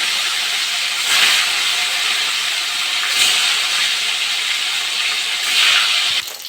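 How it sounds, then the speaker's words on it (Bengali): Tilapia fish frying in hot oil gives a steady, fairly loud broadband sizzle and hiss that swells briefly a few times, with no voices over it. "বাকি তেলে আমি একইভাবে মাছগুলো ভেজে নেবো"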